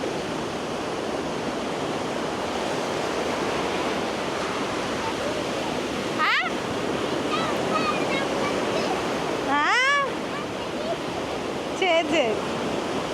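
Sea waves wash in steadily at a seashore where people are line fishing, a constant broad surf roar with a few brief louder swells, and faint voices talking underneath.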